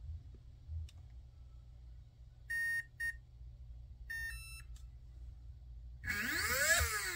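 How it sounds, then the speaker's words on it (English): A ZTW ESC gives a few short electronic calibration beeps in quick pairs, then a rising warbling tone sweep at the end, over a low steady hum. "waiting for the beep."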